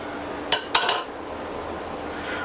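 Dry ingredients for zucchini muffins going into a mixing bowl, heard as three quick clinks and clatters of utensils or containers against the bowl, then a soft background hiss.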